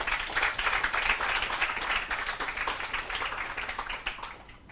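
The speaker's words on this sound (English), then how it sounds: "give him a round of applause again." A crowd claps at a political meeting in Twin Walls, San Fernando, a dense patter of hands that is fairly loud at first and then slowly tapers off.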